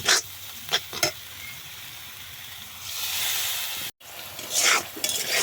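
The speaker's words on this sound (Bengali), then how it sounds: "দেখো মশলাটা আমাদের কষানো হয়ে গেছে প্রায়।" A spice paste of masala with chilli powder is sautéed in a pan for a winter melon (ash gourd) dish, giving a steady close sizzle with brief scraping stirs, rising to a louder frying hiss near the end.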